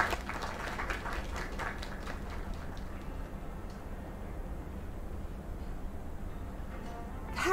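Crowd applause in the video game Lake, a quiet patter of clapping that thins after the first few seconds into a faint, steady background murmur.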